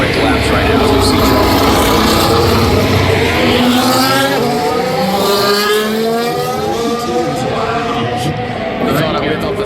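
Formula 1 cars on quick qualifying laps at the Las Vegas Grand Prix, loud high-pitched engines rising and falling in pitch as they pass, with commentators talking over the roar and crowd noise beneath.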